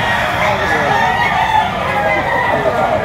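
A gamecock crows loudly and continuously, close by, with a busy background of other birds and activity at a rooster market in Padre Garcia, Batangas.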